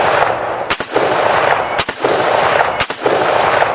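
An AR rifle in .223 fires three evenly spaced loud, close shots at a 12-inch steel target, with a continuous rushing background noise between the reports.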